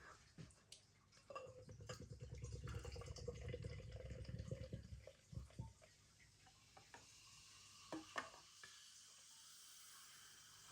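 Carbonation fizzing from a freshly opened can of Orava Brewing Company lemon tea sour beer, a close, steady hiss lasting several seconds before dying away into a few faint crackles and small clicks.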